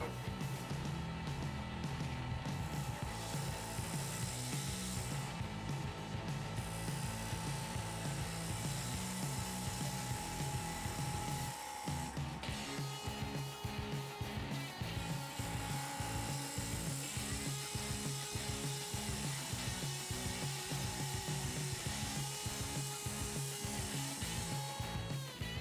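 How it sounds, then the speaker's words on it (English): A wood lathe spins steadily while a 3/8 inch bowl gouge cleans up the face of a dyed bowl, giving a loud continuous whine with scraping cutting noise throughout and a brief dip in the middle. "I'm going back to the 3/8 inch bowl gouge. I'm going to try to clean up the face here a little better."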